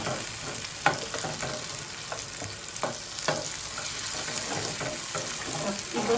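Tomatoes go into a hot frying pan while octopus adobo cooks, with a steady sizzle and scattered clinks and scrapes of stirring, some faint water sounds, all fairly close.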